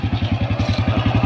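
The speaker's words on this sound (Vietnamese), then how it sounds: "mình nổ máy cho anh em xem ha." A 2011 Honda Wave Alpha motorcycle engine starts and idles close by with a steady, fast, even putter, loud and continuous with no talking.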